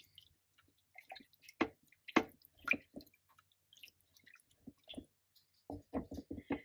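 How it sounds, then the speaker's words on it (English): Potatoes are stirred in a crock pot, giving soft wet squelches and scattered clicks of a spoon against the pot, with a quick cluster of strokes near the end and quiet gaps between. "I'm going to stir this up a little bit so I don't have just plain potatoes sticking on the bottom of the crock pot."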